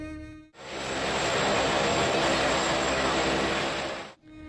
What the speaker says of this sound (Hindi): MI-17 V5 हेलीकॉप्टर की उड़ान भरने की यह तस्वीर है।